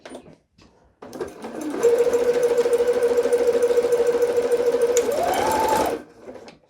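Domestic sewing machine running a zigzag stitch, a loud close steady whirring drone of several seconds that rises in pitch near the end before stopping.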